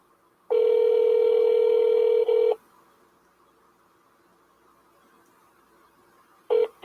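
A telephone keypad dial tone, one steady loud tone lasting about two seconds with a tiny break, then near silence and a short final beep at the end.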